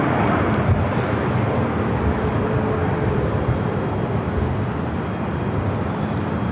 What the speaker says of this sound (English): It's that United 787-9 Dreamliner.